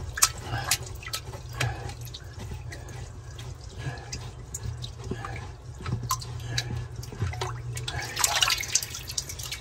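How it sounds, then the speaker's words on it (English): Water pouring and splashing out of an unscrewed check valve on a koi pond skimmer pump, an irregular close trickle with drips, growing fuller toward the end. "There's some water gonna come out."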